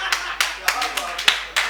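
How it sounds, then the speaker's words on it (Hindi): Hands clap at a Hindi patriotic poetry recitation on stage, six or so sharp, separate claps at a brisk uneven pace, close and clear, with a voice speaking alongside. "अगर आपकी सहमति हो तो ताली बजाइए।"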